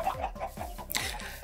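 A chicken in the video game Minecraft clucks in a run of short, repeated calls. The calls come at an even rhythm, fairly close and clear, with no talking.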